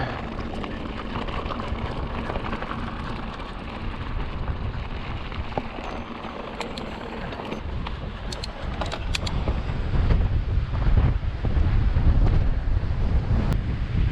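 Strong wind at the Pink Cliffs buffets the microphone in a constant rough roar, swelling louder toward the end, with no one speaking.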